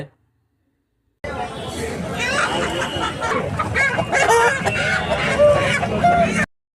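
Native chickens cluck and a rooster calls amid busy crowd chatter at a poultry market in Eluru, with people talking nearby throughout.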